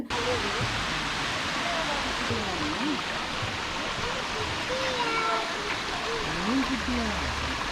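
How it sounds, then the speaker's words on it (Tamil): Steady roaring rush of Katoomba Falls in the Blue Mountains fills the whole clip, with a voice talking faintly over the constant water noise. "ஒரு வழியா நம்ம அருவிக்கு வந்தாச்சு."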